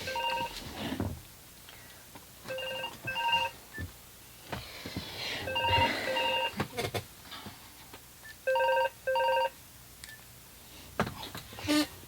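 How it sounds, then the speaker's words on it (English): A mobile phone goes off indoors during a card-making craft session, with several short bursts of electronic ringtone chirps and beeps. Faint handling noises come between the bursts, and someone speaks briefly. "Didn't mute my phone enough."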